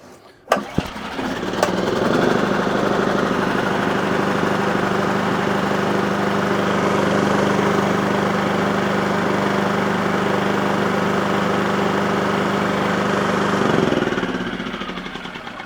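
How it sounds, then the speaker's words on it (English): Petrol generator pulled into life after a sharp mechanical knock, catching within a second and settling into a steady, loud, close idle drone for over ten seconds before the sound tapers off. "And your generator will fire up as and when you need it."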